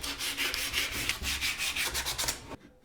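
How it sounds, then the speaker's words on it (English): Steady back-and-forth strokes of sandpaper rubbing along wooden edges, close and fairly loud in an even rhythm, stopping abruptly near the end. "take a tiny bit of a sandpaper and just go around the edges"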